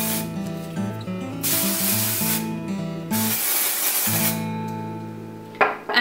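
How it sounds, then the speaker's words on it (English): Dry shampoo sprays onto hair roots in two long hissing bursts, close and bright, over soft background music, followed by a short rustle at the end. "I'm going to spray my roots with the dry shampoo."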